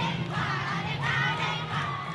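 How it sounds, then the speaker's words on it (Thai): A crowd of senior university students shouts at freshmen during a hazing activity, a dense, continuous wall of loud raised voices yelling together. "แม้การตะโกนกดดันจะเป็นเพียงบทละครหนึ่ง"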